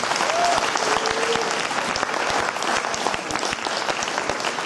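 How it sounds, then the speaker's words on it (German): Audience clapping at a bodybuilding championship award ceremony, dense sustained applause from a large crowd, loud and continuous with a slight fade near the end. "Applaus dafür."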